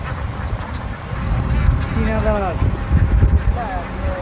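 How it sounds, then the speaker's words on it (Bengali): A large flock of around three thousand ducks quacking together outdoors in Sherpur, overlapping calls rising and falling continuously, with a person talking over them. "হ্যাঁ 3000 হাঁস আছে এখানে। এত হাঁস একসাথে দেখো কি করতেছে।"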